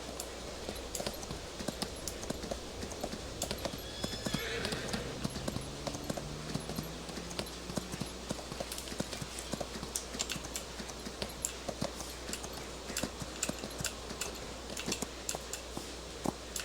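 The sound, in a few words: horse hooves clip-clopping while riding, from video game Farming Simulator 25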